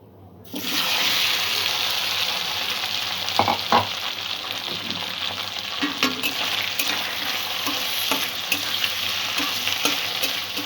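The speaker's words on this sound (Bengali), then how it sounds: "তেলে 2-3 মিনিট তেলে ভেজে নেব আলুটা" Sweet potato pieces fry in hot oil for a paratha and curry dish, a loud, steady sizzle starting abruptly and continuing close up, broken by occasional scraping stirs.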